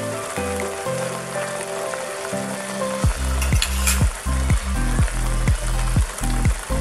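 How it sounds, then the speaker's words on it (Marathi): Chopped onion and tomato frying with ginger garlic paste for pav bhaji, a loud continuous sizzle with a rhythmic series of spatula strokes scraping the pan in the second half. "आता ह्याच्यामध्ये आलं लसूण पेस्ट टाकायची."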